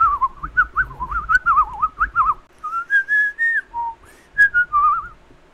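A person whistles a fast, warbling run of notes, drawing breath inward and blowing outward in turn, then a slower series of held and sliding pitches with short gaps between them, close and clear with no talking.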